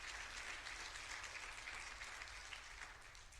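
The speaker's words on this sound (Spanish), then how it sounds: "Denle un fuerte aplauso al Señor" A church congregation applauds at a special anniversary service, a steady wash of clapping that stays full and even throughout, with no pauses.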